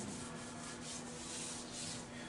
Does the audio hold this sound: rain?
no